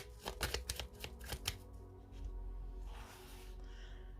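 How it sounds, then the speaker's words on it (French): Tarot cards being laid out and shuffled by hand, a quick series of soft, crisp flicks and slaps close by, then a quieter stretch of faint rustling over a low background hum. "on va poser les arcanes majeures de l'héritage du tarot divin"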